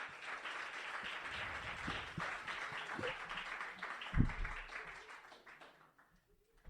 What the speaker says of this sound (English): Give her a big round of applause, guys.